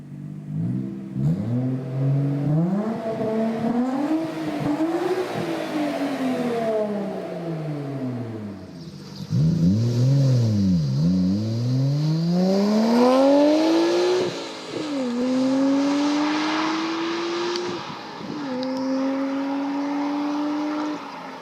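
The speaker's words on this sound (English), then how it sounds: "this R34 GT-R is a twin-turbo setup, but with an Amuse R1 titanium exhaust and a Mines stainless steel front pipe" A Nissan Skyline R34 GT-R twin-turbo with an Amuse R1 titanium exhaust and Mines stainless steel front pipe revs hard and loud. The engine climbs and falls through repeated pulls and gear changes, with a whooshing turbo rush on later runs.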